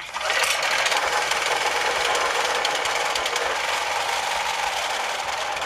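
A DR PRO 16.50 RS wood chipper's engine runs at full throttle with a loud, steady, buzzing mechanical drone and a dense rattling texture. It is close and holds nearly constant throughout, with no voices.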